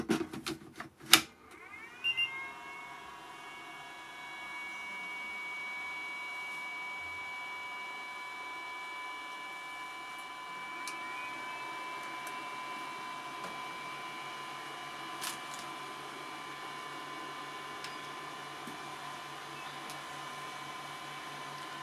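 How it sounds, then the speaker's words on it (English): Cooling fans on a Makita 40V battery charger spin up after a few clicks, settling into a steady whirring drone with a high whine that runs on evenly and close by, with no voices. "Heard two different fans kick in there."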